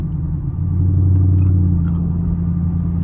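A Chevrolet Camaro SS cruising on a highway, heard as a steady low engine drone and road rumble from inside the car, constant and fairly loud with no talking.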